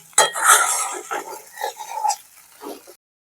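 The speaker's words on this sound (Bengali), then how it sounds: "অল্প একটু মিশিয়ে 5 মিনিট মতো নেড়ে নামিয়ে নিলেই" Chire pulao, a flattened rice pilaf, being stirred in a pan with a utensil, giving several close scraping and clinking strokes of uneven rhythm that fade out after about three seconds.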